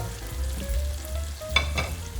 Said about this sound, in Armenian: 1-2 րոպե տապակում ենք սոխը